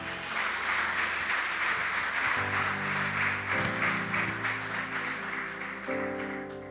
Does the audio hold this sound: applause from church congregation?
yes